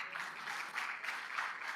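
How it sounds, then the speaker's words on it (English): An alumni association gathering claps for its alumni in a faint, distant, continuous patter of many hands with a gentle pulsing rise and fall and no talk over it. "when you clap for them, we won't charge you"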